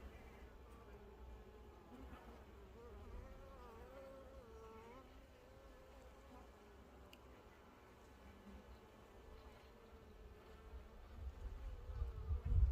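Honeybees drone in a low, continuous buzz around an opened hive during a spring inspection, faint and steady, with a low rumble of handling noise rising toward the end.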